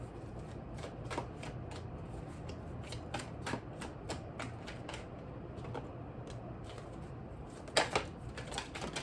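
Tarot cards are shuffled by hand in a rapid train of soft, close clicks and riffles, ending in a sharper flurry as some cards spill out.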